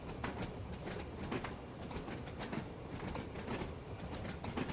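Train rolling along the Isle of Wight line in Train Sim World 2, a steady rumble with rhythmic clickety-clack of wheels over rail joints, continuous and fairly close throughout.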